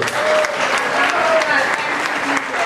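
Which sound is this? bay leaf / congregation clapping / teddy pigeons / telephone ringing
congregation clapping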